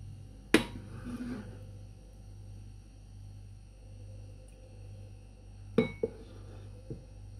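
Chicken corn soup ladled out of a pot, with a couple of sharp metallic clinks of ladle on pot set apart by quiet stretches over a low steady hum.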